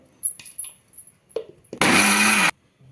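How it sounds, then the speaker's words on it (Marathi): A kitchen mixer grinder blends ragi dough with sweet corn kernels in one loud, steady burst of under a second, after scattered clinks and handling taps. "अजून आपल्याला यामध्ये कॉर्नचे दाणे घालून पुन्हा मिक्सरमध्ये फिरवून घ्यायचंय"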